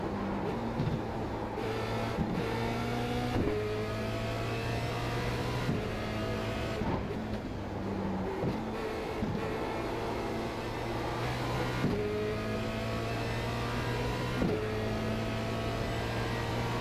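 Formula Renault 2.0 race car engine in iRacing at Watkins Glen, a steady high-pitched drone with repeated rises in pitch through upshifts and brief dips, running continuously and loud with no talk.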